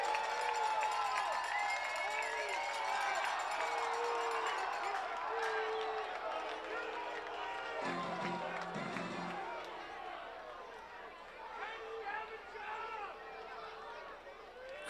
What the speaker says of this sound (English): Crowd got wild.